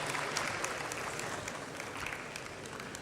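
Audience applause during a plaque presentation at a grand finale ceremony: steady, moderately loud clapping from a crowd, with a few sharper individual claps and no talk.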